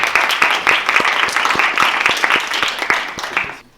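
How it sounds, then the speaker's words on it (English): Clapping from a seated audience at a college lecture welcomes a speaker, with distinct rhythmic claps standing out over dense applause for several seconds before it cuts off abruptly. "So let us give a warm round of applause to dear Ms. Kader Sevinç."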